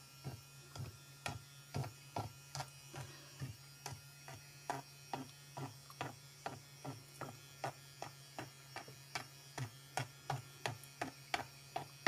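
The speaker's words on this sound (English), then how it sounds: "It's an electric toothbrush. Let's see if what happens when I turn it on." Electric toothbrush switched on, giving a faint, steady hum with a regular train of quick clicking pulses repeating at a steady rhythm, heard alone in a quiet room.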